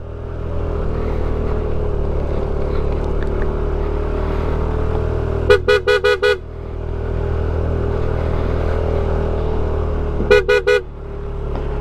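A car horn honks in two bursts of four quick toots each, heard over the constant drone of a vehicle engine during a mountain road drive to Mount Timbak.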